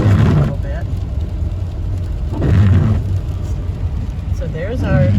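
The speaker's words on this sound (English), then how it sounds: "Not much I can do about it with all this rain coming down" Rain striking a car moving along a road near the Allegheny River, with rubbery windshield wipers squeaking in sweeps roughly every two seconds over steady road rumble while a person talks.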